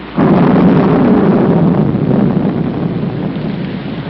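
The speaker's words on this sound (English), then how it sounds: "It's going to rain." A thunder and rain storm breaks in with a sudden loud roll of thunder, then a steady heavy rumble and wash of rain continuing close by.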